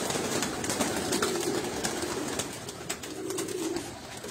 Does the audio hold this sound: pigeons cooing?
yes